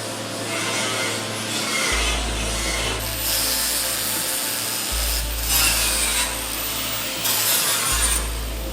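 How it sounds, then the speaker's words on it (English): Abrasive polishing of welded steel parts for a WW2 Willys Jeep in a factory, a steady rubbing, rasping grind that runs continuously at close range with slight surges, no talk. "the parts are polished to ensure a smooth finish"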